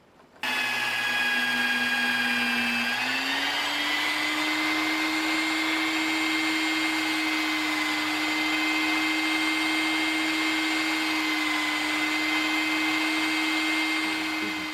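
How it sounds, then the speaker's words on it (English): A power tool deburring a handmade knob, starting abruptly with a steady high whine that rises slightly in pitch after a few seconds and holds constant for a long stretch, close and continuous. "all I'm going to do now is just get rid of the burrs"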